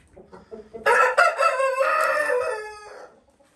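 A breeding rooster crows once, loud and close, a single drawn-out cock-a-doodle-doo lasting about two seconds after a few soft clucks, then quiet.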